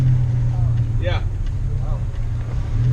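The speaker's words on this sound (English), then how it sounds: "Boy, is that accelerator touchy now." A Ford Focus ST fitted with the Ford Performance FR1 power upgrade pack growls with a deep, loud engine drone inside the cabin as it accelerates, while a voice exclaims briefly over it.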